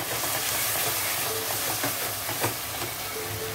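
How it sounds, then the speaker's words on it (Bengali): Onion and ginger-garlic paste fry in a pan for a chicken curry, giving a continuous loud sizzle with occasional soft stirring scrapes and no voices. "তার সঙ্গে আমি দিয়ে দেবো আদা রসুনের পেস্ট, তাহলে পেঁয়াজটাও ভাজা হবে, আদা রসুনটাও কষানো হবে।"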